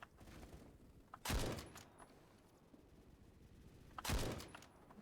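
Two sharp, loud sniper rifle shots about three seconds apart in the Roblox shooter Phantom Forces, each one a bang with a short decaying tail over quiet game ambience.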